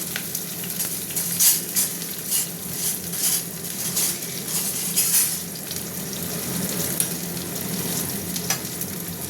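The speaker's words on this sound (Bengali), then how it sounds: "পেঁয়াজটা একটু ভাজা ভাজা হবে" Onions frying in a hot pan with five-spice and chili for a vegetable curry, giving a steady, close sizzle with occasional stirring scrapes and no talking.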